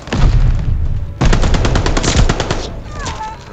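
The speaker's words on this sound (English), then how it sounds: "Allies calling a mortar barrage." Sustained gunfire and blasts from a Call of Duty: Vanguard match during a mortar barrage, with dense rapid bursts that break off briefly and then resume loudly, thinning toward the end.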